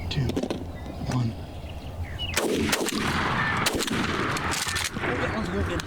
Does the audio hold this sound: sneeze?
no